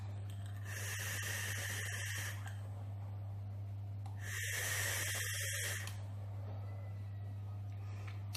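Two long drags on an Aspire Cleito Exo tank with a standard coil at 32 watts, each a steady airy hiss of airflow lasting about one to two seconds, close up over a low constant hum, with no talking.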